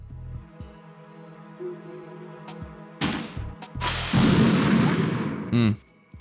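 Gunfire and blasts in Metal Gear Solid 2: Sons of Liberty. A quiet stretch of game ambience and tones gives way to loud bursts of shots and booming impacts near the end.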